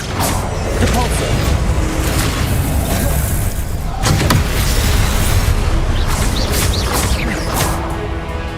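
Depulso force spell cast in the Hogwarts Legacy video game, a loud dense wash of booming blasts and whooshing impacts with a sharp hit midway, continuous game battle noise throughout.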